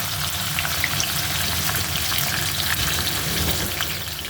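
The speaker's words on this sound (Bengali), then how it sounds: "মাছটা ভেজে নিচ্ছি। মাছটা কিন্তু কড়া করে ভাজবো না, হালকা ভেজে নেব।" Koi fish fry lightly in hot oil in a pan, giving a continuous close sizzle with crackling pops throughout, loud and steady with no talking.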